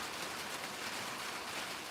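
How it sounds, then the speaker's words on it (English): Rain beginning to fall on a tin roof, a soft, even hiss of drops with no talking, faint and continuous. "If you can hear the rain on the tin up there, it's starting to rain."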